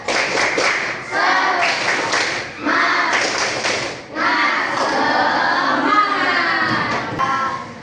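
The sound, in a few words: children doing rhythmic 'tepuk semangat' clapping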